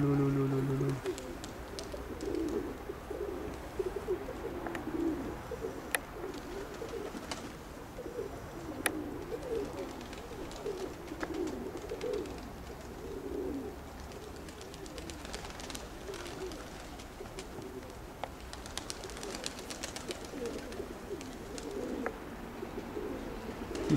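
Pigeons in a Russian flying loft coo steadily through the whole stretch, with faint wingbeats and chirps scattered over a moderate, even background and no talking.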